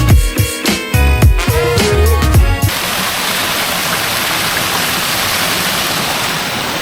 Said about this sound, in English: It might be quite loud though because there's loads of waterfalls going off all there